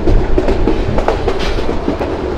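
A train rolls slowly into the line near Bogura railway station in Bangladesh, wheels clicking in an irregular clack over steady close rumble, with no talk.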